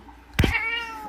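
A cat lets out a single loud, close meow, abrupt and strained at the start, then trailing off into a higher drawn-out tone.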